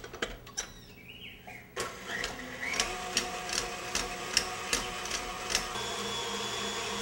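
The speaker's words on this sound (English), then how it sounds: "And then in my mixer, I'm going to mix that quite a high speed for a few minutes." Electric stand mixer beating hot cross bun dough at high speed: a continuous motor whir with a regular knocking pulse as the dough slaps around the bowl, close and steady with no talk.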